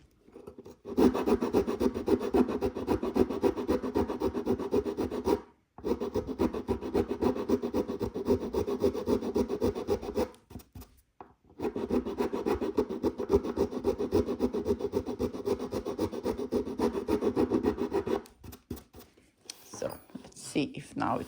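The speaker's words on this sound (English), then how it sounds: "So then I'm going to use a rasp." Wood of a violin upper nut worked with a rasp: close, steady rhythmic rasping strokes in long runs, broken by two short pauses and a brief handling noise at the end.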